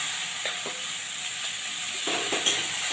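Slit green chillies and washed, chopped kuilekhara greens hit a hot pan of softened tomatoes for dal, setting off a steady close sizzle and hiss with a few light clinks and stirring noises.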